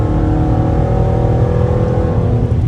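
A straight-piped 345 Hemi Dodge Charger R/T accelerates hard on the highway, heard from inside as a loud, steady, deep exhaust roar that fills the whole stretch without letting up.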